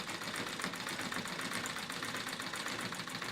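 Treadle sewing machine quilting through denim, a rapid, even mechanical chatter of the needle and treadle, steady and close but faint, with no talk.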